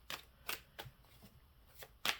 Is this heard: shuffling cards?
yes